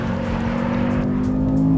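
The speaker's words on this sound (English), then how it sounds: "that engine fires into life" The V8 engine of a Mercedes-AMG GT 63 S E Performance hybrid fires up and holds a loud, steady droning hum close by for a couple of seconds, with no voices.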